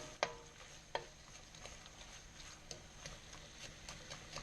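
Garlic and ginger get stirred in a frying pan with shrimp, a faint steady sizzle broken by a few sharp scraping and tapping clicks of the utensil against the pan.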